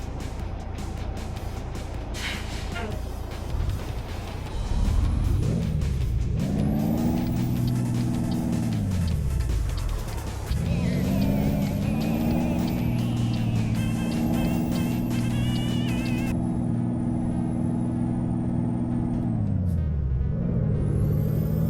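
A Peterbilt 389 truck in Euro Truck Simulator 2 rumbles loudly and close as its engine revs rise and fall through gear changes, with air brake sounds among the steady drone and no talking.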